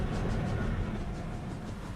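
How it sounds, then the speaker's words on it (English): A train in the Roblox game SRI Terminal rumbles past steadily at close range, a continuous low roar holding even loudness for two seconds with no talk. "There is a train coming south."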